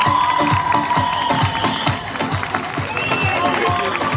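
Students at a middle school graduation ceremony in Turkey keep up a second burst of applause and cheering. Dense, steady clapping carries through the whole stretch, with crowd noise and voices underneath.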